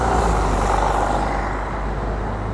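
A city bus running on a street, heard as a loud, steady close-up roar of a heavy diesel engine with broadband road noise and no distinct brake hiss.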